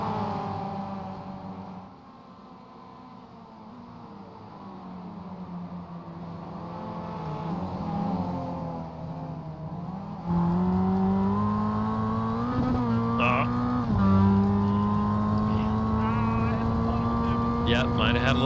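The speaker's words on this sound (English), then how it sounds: "Heard the car get to the rev limiter." A race car engine in the iRacing game at Canadian Tire Motorsport Park drones at high revs, pitch climbing and bouncing against the rev limiter, loud and continuous with a commentator talking over it.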